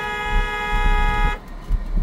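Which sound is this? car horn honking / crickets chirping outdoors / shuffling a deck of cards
car horn honking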